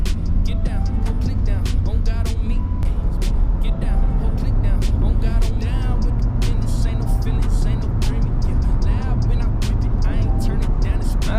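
A Corvette C7 Z06 cruising along a road, heard from inside the cabin as a steady low engine drone with road rumble throughout, while people talk over it.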